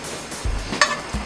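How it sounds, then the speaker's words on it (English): Thyme fries in a hot pan alongside milk-poached veal sweetbreads in a restaurant kitchen, giving a steady sizzle with a few soft knocks and scrapes of the pan. "That thyme starts to fry up."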